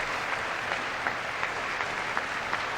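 Audience applause during a political speech, a steady patter of many hands clapping at moderate distance, continuous for a few seconds with no talk over it.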